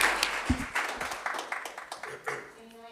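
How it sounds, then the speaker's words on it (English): Scattered clapping from the audience at a school district board meeting, a handful of distinct claps that quickly fade to sparse taps within a few seconds, with a brief voice near the start. "We're going to need another round of applause."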